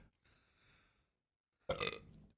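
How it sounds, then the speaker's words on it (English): A single loud burp erupts after a quiet pause, brought on by a Zyn nicotine pouch, close to the mic and brief. "I know I burp a lot, but the Zin is making it even crazier."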